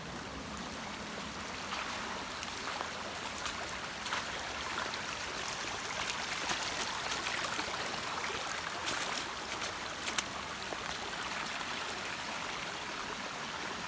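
Floodwater running across a farm from the road and nearby woods, a constant rushing, gurgling flow like a small creek, steady and fairly close for the whole stretch.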